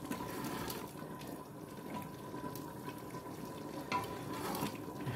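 Uncooked rice toasting and being stirred in a dry pan before water is added for Filipino goto or lugaw, a faint scraping and sizzling texture with soft intermittent clicks, close by and quiet with no talk.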